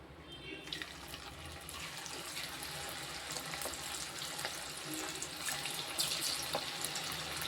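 Sugar pumpkin slices fry in hot oil for chips, giving a steady, dense crackling sizzle that runs evenly from start to finish with no voices.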